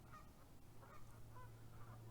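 Geese on a small island give soft, repeated honking clucks at an easy rhythm, faint and somewhat distant over a low background hum.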